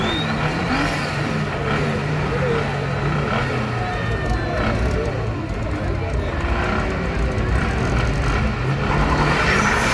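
Cars including a VW Polo in a road race, heard as a sustained engine drone and acceleration from passing vehicles, with people talking loudly over the noise.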